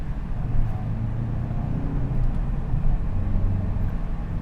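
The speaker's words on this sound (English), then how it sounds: "Just going through the gears is just fantastic." Engine of a 2022 VW GTI hatchback hot hatch heard from inside the car while driving through the gears, a steady low rumble with slight rises in pitch, fairly quiet and constant with no talk over it.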